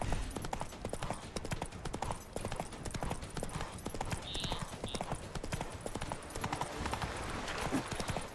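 Geralt's horse Roach trotting in The Witcher 3, a steady, rhythmic stream of close hoof clops running throughout over game ambience, with a couple of faint tonal blips partway through.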